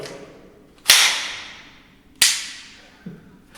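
Two sharp, suppressed gunshots from a Kel Tec SUB2000 carbine, sounding like an air gun, each a snappy crack with a short decaying tail, followed by a softer thud.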